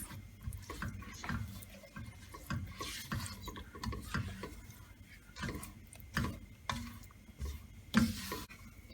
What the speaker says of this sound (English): you just keep stirring and mashing around the flour